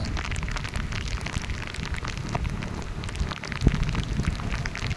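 Steady monsoon rain pattering and hissing on a road, with scattered droplet ticks and one slightly louder splash, no voices.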